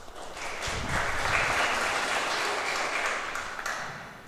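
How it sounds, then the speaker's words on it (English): Sustained crowd applause at a four-wall handball singles semi-final, a steady wash of clapping that swells and holds for the whole moment, loud and continuous with no talk over it. "And they both deserve that round of applause."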